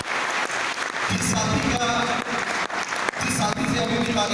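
Applause from a seminar audience, a dense sustained patter of many hands clapping that carries on throughout at fairly close range.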